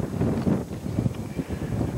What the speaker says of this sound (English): Wind's quite steady.